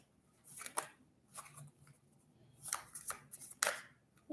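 Tarot cards shuffled by hand on a table, giving several short papery riffling bursts spaced across the moment, fairly close and moderately quiet, with some cards slipping and dropping.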